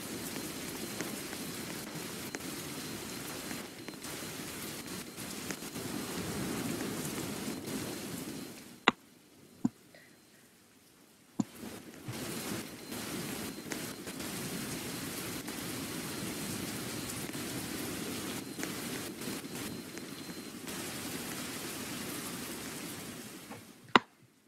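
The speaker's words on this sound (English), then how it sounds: "Oh, it stopped raining." Steady rain falls in a Roblox video game, a dense even hiss of drops that continues throughout, broken by a brief near-silent gap and a few sharp clicks, with no talking.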